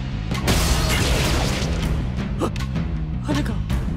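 Newer Koyomi Vamp arrangement of a Monogatari soundtrack track, loud continuous music with dramatic booming hits and sharp accents through a few seconds, no voices.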